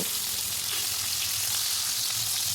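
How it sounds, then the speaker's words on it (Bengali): Pieces of bhetki fish frying in hot oil for a Bengali fish curry with cauliflower, a dense, even sizzle close by throughout, with no one talking. "মাছগুলো আমি পরপর দিয়ে দিচ্ছি আর ভালো করে ভেজে নেব"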